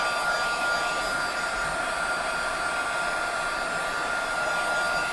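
A hair dryer blows on wet paper for a rustic holiday card, a loud, steady, unbroken whir from start to finish.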